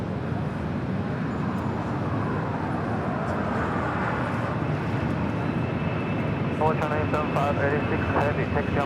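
A LATAM Airlines Boeing 767-300ER taxiing for departure at LAX, a steady loud jet engine roar with a rising whine, heard at a distance from outside the airport, with faint tonal chirps near the end.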